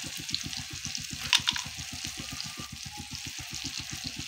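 Tomato and spices frying in a pan for a Bengali egg curry give a soft, close sizzle with a steady rhythmic pulsing beneath it and a couple of brief sharp clinks, with no talking.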